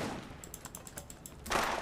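Faint gunfire in the Borderlands video game: a quick series of light, snappy pops ending in one fuller shot, quiet against a soft background hiss.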